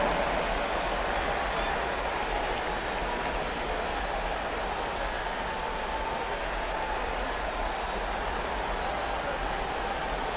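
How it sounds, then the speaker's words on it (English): Steady crowd applause fills an NBA arena during a Boston Celtics versus Detroit Pistons tournament game, a dense continuous wash of clapping and cheering that holds evenly throughout. "Give yourself a big round of applause."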